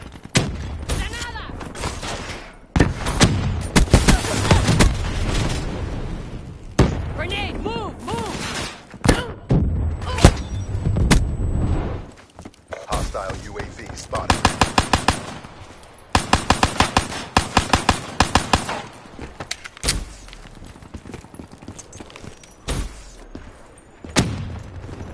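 Call of Duty Black Ops 3 firefight: bursts of rapid automatic gunfire and heavy thumping blasts, including an explosion, loud and close, with shouted voices and chatter between the volleys.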